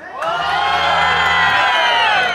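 A live audience cheers and shouts loudly for a DJ at the final of a DJ battle. The roar swells and holds steady from start to finish, with whoops and shouts layered through the crowd.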